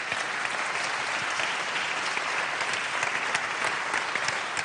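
Audience applause at a national awards ceremony during a trophy handover, a steady, even roar of many people clapping in a hall, sustained and uniform with no talk over it.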